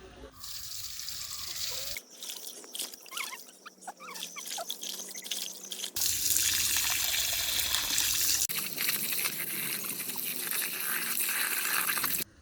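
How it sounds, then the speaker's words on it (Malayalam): Medicinal herbs are washed by hand in water for making herbal oil, with steady running and splashing water from a tap or sink that grows louder partway through and continues without speech. "നമുക്കിതെല്ലാം ഒന്ന് കഴുകി വൃത്തിയാക്കി വെക്കാം"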